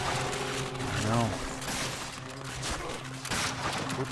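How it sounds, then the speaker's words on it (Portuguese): Gunfire from the PS2 video game Call of Duty: Finest Hour, bursts of shots mixed with in-game music and effects, moderately loud and continuous across the whole stretch. "Tô dando muito tiro."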